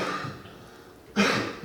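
A person in a committee meeting coughs once abruptly after a stretch of quiet room noise, a short harsh burst close to the microphone.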